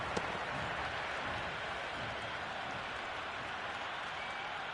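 Steady roar of a stadium crowd cheering at a one-day international cricket match between India and Australia in the PS5 game Cricket 26, a dense continuous wash of noise with no talk.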